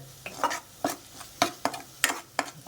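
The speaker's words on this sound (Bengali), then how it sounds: "একটু ভালো করে কষে নিতে হবে।" Spice masala stirred and fried in a pan for egg curry: about eight brisk spatula scrapes in an uneven rhythm, close and clear over a light sizzle.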